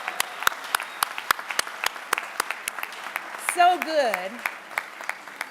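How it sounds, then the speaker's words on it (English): Sustained audience applause fills a 2023 MLK tribute event, dense clapping with sharp individual claps standing out, while a person briefly speaks and a voice rises in a wavering cheer partway through. "I want you to give her the loudest round of applause you possibly can."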